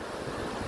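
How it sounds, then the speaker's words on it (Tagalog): Strong wind roars steadily at the coast in Claveria, Cagayan, with broad gusting rumble and surf-like wash filling the short stretch, loud and continuous with no voices. "Lakas ang hangin, grabe."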